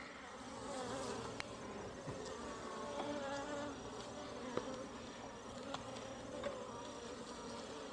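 A dense, steady buzzing of many bees swarming close by from a hive inside a wall being removed, a continuous droning hum with occasional louder passes.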